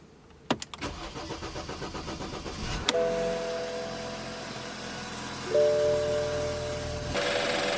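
A BMW N20 four-cylinder turbo engine cranks with rapid ticking and then catches. It settles into a steady, fairly loud idle with a rise in revs partway through, heard close with no talk.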